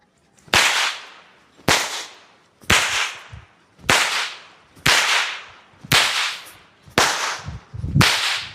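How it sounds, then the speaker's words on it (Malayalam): Diwali firecrackers going off one after another, eight sharp loud bangs at roughly one-second intervals, each with a short echoing tail, outdoors and with no talk. "5-6 വെടി കൂടെ കേക്കട്ട് തന്നെ."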